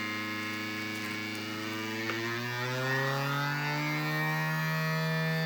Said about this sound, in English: we have just a real basic vacuum sealer that you have at home